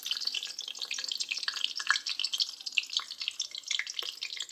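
Fennel, garam masala and green chilli fry in hot oil for egg noodles, giving a bright, steady hiss and crackle with scattered popping spits.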